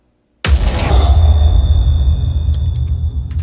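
A sudden heavy impact hits after a moment of silence, then settles into a deep, sustained rumble with a faint high ringing tone above it.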